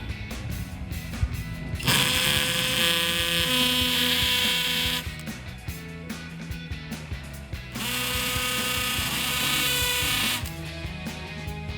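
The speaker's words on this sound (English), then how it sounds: "I'm going to have to drill them out with the hose, because I cannot have access from the back of them." A power drill bores out the rivets holding a 2015-2018 Dodge Charger SXT rear diffuser. Two long, loud, whining drilling bursts run a few seconds each, with quieter mechanical handling noise between them.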